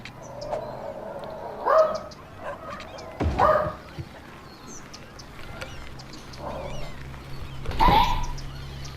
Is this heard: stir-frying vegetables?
no